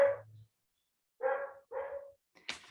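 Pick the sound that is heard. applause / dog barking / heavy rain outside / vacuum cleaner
dog barking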